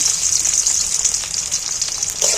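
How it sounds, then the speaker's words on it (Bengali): Onions sizzle in hot mustard oil with a bright, constant hiss that stays close and steady, broken only by a soft stir near the end. "পেঁয়াজটা একটু তেলের মধ্যে ভালো করে ভেজে নেব"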